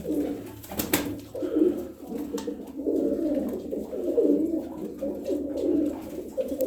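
Domestic game pigeons in a loft coo softly and repeatedly, low murmuring calls overlapping close by, with a few brief sharp knocks and rustles among them and no talking.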